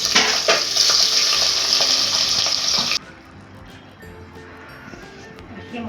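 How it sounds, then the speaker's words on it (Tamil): Loud crackling sizzle of spices tempering in hot ghee for coconut rice, lasting a few seconds, then it cuts to quieter kitchen clatter with faint talking. "தேங்காய் சோறு தாளிக்க ஸ்டார்ட் பண்ணியாச்சு."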